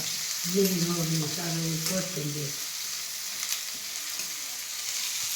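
Chopped onion, garlic and ginger frying in a pan, a steady sizzle with stirring, close; a brief tonal sound rings out over it early on, then the frying continues alone.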